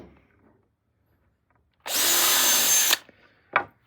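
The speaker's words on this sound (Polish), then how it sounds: "wkręcanie wkrętów. Żeby nie rozszczepiało drewienka." A power drill drives a screw into wood in one loud, close burst lasting about a second after quiet, then a short final whir.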